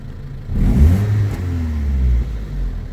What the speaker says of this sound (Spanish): Y acelera sin ningún problema, no tiene ningún cabeceo.